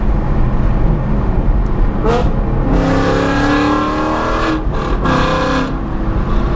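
A loud Ford Mustang S550 exhaust with catless long-tube headers and Corsa Xtreme cat-back roars nearby, rising in bursts as the engine revs, with a raspy, crackling rumble between pulls.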